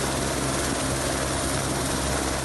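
A rescue helicopter flies overhead during a mudslide recovery in Minas Gerais, Brazil, its rotor and engine making a loud, unbroken roar that fills the whole span with no voices.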